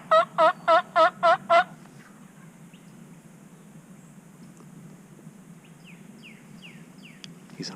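A wild turkey gobbles in quick repeated bursts, six loud rapid calls close together at the start, followed by quiet outdoor ambience with faint distant bird chirps and soft rustling.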